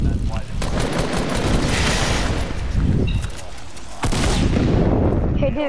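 Shotgun blasts in a video game firefight, loud dense bursts of gunfire running almost continuously over a few seconds, with a voice talking underneath.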